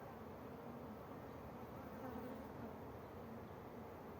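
Honeybees buzz in a dense, steady drone at an opened hive during a gentle inspection, the hum constant and close without any talking.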